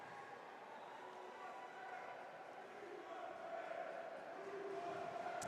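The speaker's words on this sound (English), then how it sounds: "And now the crowd is getting into it." Crowd noise rises in the stands at a college club ice hockey game between UCF and USF, a broad steady roar of cheering that swells toward the end, with some voices mixed in.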